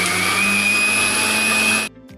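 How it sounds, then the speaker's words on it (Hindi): An electric whisk or blender beats sugar, milk powder and kharvas powder together, a steady loud whirring motor drone that cuts off abruptly near the end. "शक्कर डालेंगे, दूध पाउडर, खरवस पाउडर डाल के इसे अच्छे से फेंट लेंगे।"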